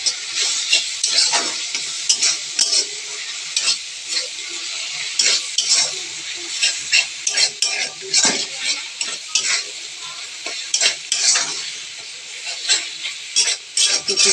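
Cumin and dried chili paste stirred into chicken kurma frying in a pan, a bright hiss of sizzling oil with repeated scraping strokes of a spoon against the pan, close and constant.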